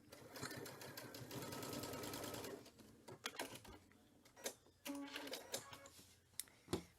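A sewing machine fitted with a hemmer foot stitches a hem in a steady, fast whirring run for a couple of seconds. Short bursts and clicks follow as the fabric is adjusted, close and quiet.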